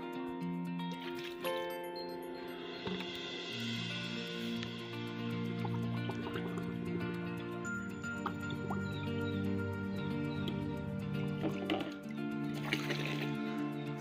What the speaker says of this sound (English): I'm just filling up this substance into this bottle